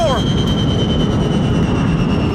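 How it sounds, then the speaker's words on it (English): Airliner jet engines wind down as a loud, steady roar and whine with a constant high tone, continuing unbroken for the whole stretch. "The passengers can hear the sound of the engines beginning to shut down."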